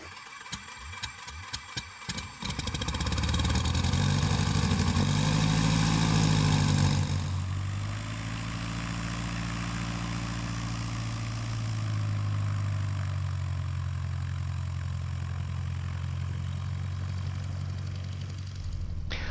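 A 2024 Aviat Husky's propeller engine cranks with a few sharp starter pulses, catches into a loud rising roar, then settles into a steady, close idle on a grass airstrip in Maryland.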